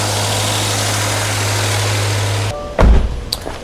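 A 2020 or newer Subaru Outback fitted with a custom charge pipe idles just after starting, a steady close engine hum with a low drone. It cuts out abruptly, followed by a couple of sharp handling thumps.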